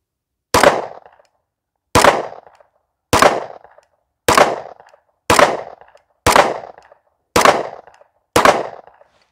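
A pistol fires a full magazine: eight loud, sharp shots spaced at a steady, unhurried rhythm of roughly one per second, each ringing out briefly before the next, with no talking.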